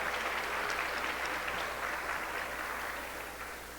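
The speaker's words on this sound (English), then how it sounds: "If you could please give them a round of applause." Round of applause from a conference audience at a Hispanic women's organization event, honoring volunteers; steady, moderately faint clapping that carries on evenly and slowly fades toward the end.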